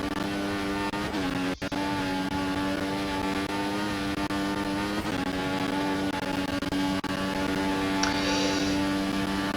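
Formula 1 car in a racing video game braking hard into the first corner of the Italian Grand Prix circuit, then accelerating, a steady high-pitched engine whine holding loud and close with brief dips during downshifts.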